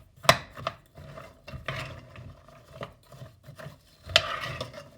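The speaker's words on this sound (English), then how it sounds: "I'm going to mix these ingredients together." A spoon stirs beans with brown sugar, molasses and ketchup in a bowl, giving soft scraping and clinking strokes in an irregular rhythm, close by with no talking.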